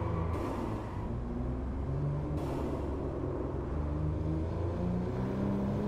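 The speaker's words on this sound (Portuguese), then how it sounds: "O espirro da turbina, vocês viram?" Jaguar XJ220 with a 3.5-litre 24-valve biturbo V6 in the racing game Driveclub drones steadily from an interior view, a continuous low engine rumble with a brief hiss from the turbo.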